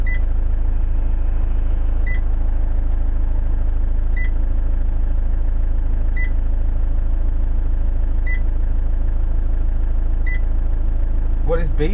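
An electronic beep repeats steadily about every two seconds over the low rumble of an idling engine.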